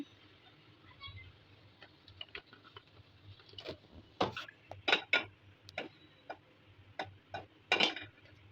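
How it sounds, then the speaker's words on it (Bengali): Spoon scraping and clinking against a bowl while chili flakes, cumin powder and oil are mixed, irregular soft taps and sharper clicks, close and fairly quiet, with no talk. "এখন সব একসাথে মিক্স করে নেব।"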